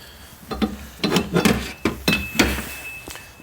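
Hand tools, including clamps and small hammers, clink and clank in a Snap-on tool box drawer, with about six close, sharp metallic knocks in quick succession, no talking.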